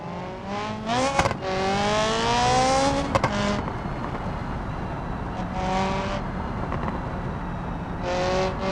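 An open-wheel race car in the BeamNG driving game revs hard with sharp engine whine rising in bursts, gear shifts and brief lulls between accelerations, loud and close.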